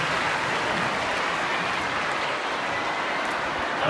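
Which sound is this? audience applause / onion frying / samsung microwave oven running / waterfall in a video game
audience applause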